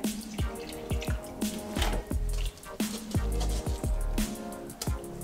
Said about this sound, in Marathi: आता मी हे पाणी गाळून घेते